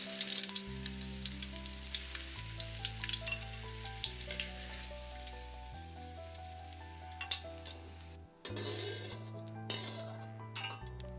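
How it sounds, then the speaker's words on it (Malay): Food fries in hot oil for a simple white fried rice vermicelli dish, a steady faint sizzle with occasional clinks of utensils against the pan, beneath a soft musical backing. "Gorengkan dalam minyak yang panas."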